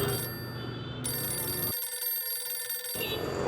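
A telephone rings with a steady electronic trill, then a brief pause in the tone before it resumes; fairly quiet, with no talking.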